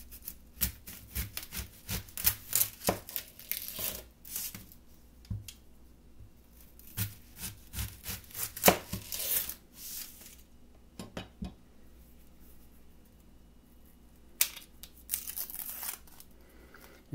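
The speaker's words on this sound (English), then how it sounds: "the first thing you need to do is chop up some onions" Sweet onions like Vidalia are chopped on a board for chili spaghetti, quiet close knife taps and crunchy cuts coming in irregular bursts with pauses between.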